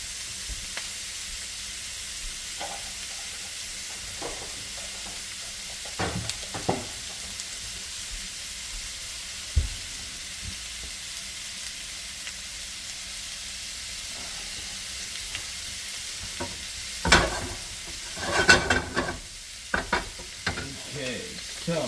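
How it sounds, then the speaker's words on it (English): Ground beef sizzles in a hot pan on a rainy day, with a steady frying hiss and scattered scraping and clacking as a utensil breaks up the meat. "I'm going to take this ground beef here and we are going to break it up. Turn this heat up a little bit, break it up, put it in here to cook"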